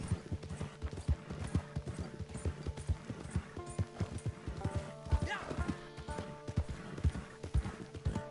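Horse hooves clip-clopping in the video game Red Dead Online, a steady rhythmic trot of close, even hoofbeats with a brief whinny partway through and game music tones underneath.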